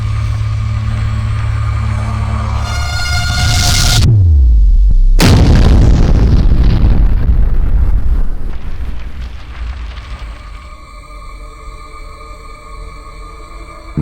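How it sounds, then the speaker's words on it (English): A huge explosion in an audio drama erupts from a sphere inside a cavern, with a rising roar, sudden cutoff, then a massive deep rumbling blast that shakes the space and slowly fades into ringing tones. "The sphere erupted in a blinding explosion, the force shaking the entire cavern."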